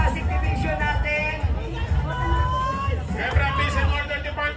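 Crowd cheering at a civic parade in Pasig, a continuous roar of voices and babble with a commentator talking over it throughout.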